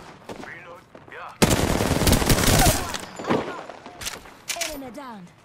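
Sustained automatic gunfire in a shooter video game: a loud, dense burst lasting about one and a half seconds, with a few later single shots and voices talking before and after.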